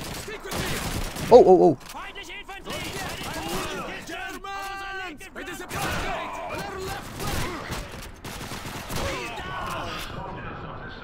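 Bursts of machine gun fire and explosions in Call of Duty 2 on a Russian battlefield, close and loud, with a sharp peak early on and someone shouting excitedly over the chaotic gunfire.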